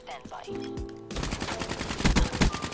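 Rapid automatic gunfire rattles in Black Ops 3 as the player jumps and shoots. A short quieter stretch of game sounds gives way to a loud, dense burst of shots that continues to the end.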